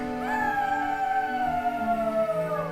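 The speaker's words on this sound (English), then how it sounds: "He heard a howl and looked up." A long, wavering howl rises and slowly falls over a low rumbling background, carrying steadily for a few seconds.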